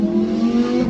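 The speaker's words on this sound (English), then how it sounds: "These cars that you can lease to drive around Vegas, oh my God, I hate them so much. They're so loud." Loud rental sports car revving near Red Rock outside Las Vegas, a steady close engine drone that fills the whole moment with no voices.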